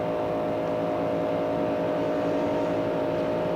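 Stock race cars at the 1993 Daytona 500 roar in a steady, loud drone of engine tones, the pack's sustained howl filling the whole moment without pause.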